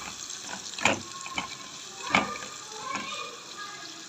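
Onion frying in ghee in a pan, a steady close sizzle with a few louder stirring scrapes and spatters breaking through.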